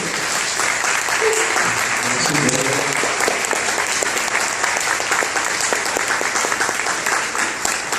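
An audience applauds a song at a talk, with loud, dense, even clapping that stays constant throughout, without letting up.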